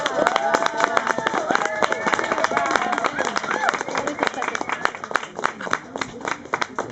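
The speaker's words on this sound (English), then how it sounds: "Please join me in one more round of applause for Adriana Camarena." Audience applause at an evening rant event in a secret garden, dense clapping mixed with crowd chatter and voices throughout, loud and close.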